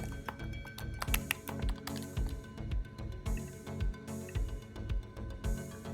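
Someone types a password on a computer keyboard: a quick, irregular run of close, crisp key taps spread across several seconds, over a steady tonal background bed, with no talking.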